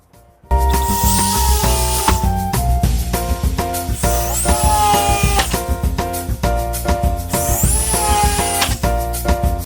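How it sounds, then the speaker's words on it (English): A power drill bores into a plexiglass mock-up drywall panel, a loud, busy whirring with repeated rhythmic bursts and rising whines close up throughout. "Right, so let's start drilling right now."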